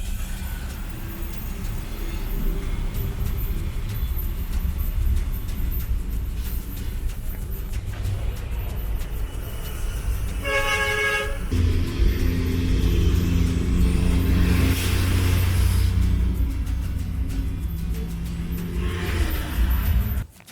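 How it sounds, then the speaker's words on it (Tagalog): A car towed behind a tow truck produces a steady, loud road rumble and engine drone that runs throughout, swelling into a heavier roar partway through. "Ito yung clips nung pinato namin yung sasakyan."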